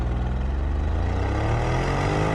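A 2024 Porsche Cayenne S pulling away from a standstill without launch control, its engine note climbing steadily in a rising drone heard from inside the cabin, with no talking.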